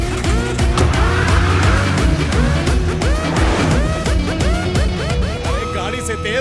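A car revs hard and pulls away with squealing tires and skidding, busy engine and tire noise mixed with overlapping voices and other street sounds.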